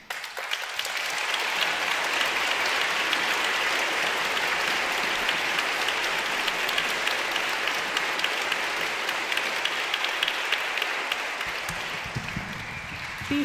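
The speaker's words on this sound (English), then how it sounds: "can we get one more round of applause for Kathy" Sustained audience applause at a violin celebration, a dense steady wash of many hands clapping from start to finish, fairly loud and close with no talk over it.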